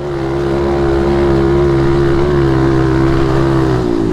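A mini motorbike engine drones loudly and steadily in a muddy pit, holding a strained, even pitch up close with only slight wavering throughout.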